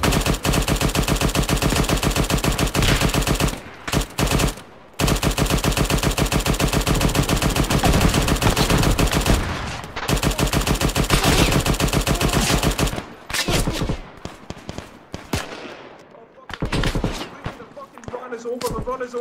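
Rapid automatic gunfire in the military video game Arma 3 crackles loud and nearly continuous in long bursts with brief gaps, then thins to scattered shots and clatter at the end.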